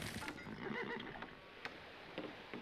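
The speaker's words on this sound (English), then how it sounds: "Horses." In a strategy video game, a horse neighs with a clear whinny, followed by clip-clopping hoof sounds and a few sharp ticks, fairly quiet and with no talking.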